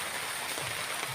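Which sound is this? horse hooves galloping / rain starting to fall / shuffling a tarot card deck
rain starting to fall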